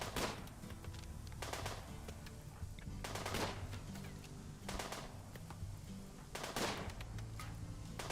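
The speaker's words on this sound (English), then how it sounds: "Hear that guy working the mortar?" Repeated mortar fire in the colony game Rimworld, heard as a series of sharp, evenly spaced blasts, roughly one every second or so, over a constant busy background din.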